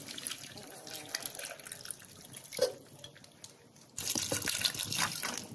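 Tamarind juice being poured in a home kitchen while preparing matar sabji, a steady liquid trickle and splash close by, growing into a louder gush toward the end, with no talking.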